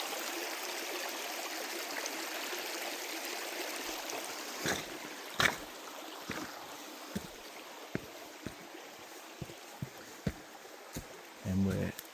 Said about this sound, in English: we're kind of standing in the middle of the creek now